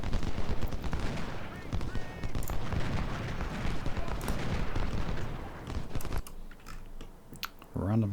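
Musket volleys in a Civil War strategy game, Ultimate General: Civil War, at the Second Battle of Bull Run: dense, continuous crackling gunfire with overlapping shots, loud and sustained, thinning out near the end.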